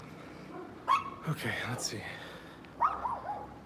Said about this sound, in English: Oh my gosh, that's a huge dog.